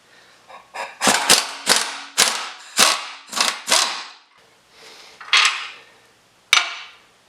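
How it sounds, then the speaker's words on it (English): A crescent wrench works on a nut on a Jeep CJ7 shock tower, giving a close run of sharp metallic clicks and clanks, about ten in irregular bursts with short pauses. "So I have to use an open face crescent to hold on to the nut."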